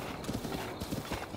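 Horse hooves galloping in Zelda Breath of the Wild, a fast, rhythmic, steady clip-clop that is quiet and heard on its own.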